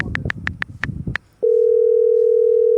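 A telephone handset sounds a quick series of short keypad beeps, then a brief pause, then a steady, unbroken tone that holds loud and even to the end.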